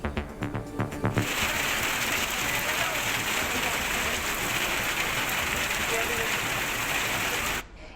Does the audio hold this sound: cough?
no